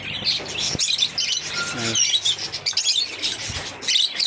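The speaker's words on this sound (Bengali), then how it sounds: "এই যে বাজিগার পাখি" Busy, lively chirping and tweeting from several budgerigars, with quick high-pitched calls overlapping in a noisy indoor pet bird shop.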